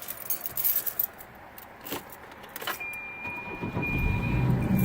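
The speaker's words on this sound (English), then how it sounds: "now I'm gonna go ahead and start the car with the ground disconnected" A car engine started with its ground wire disconnected: keys jingle close by, then the engine cranks, catches and settles into a steady idle.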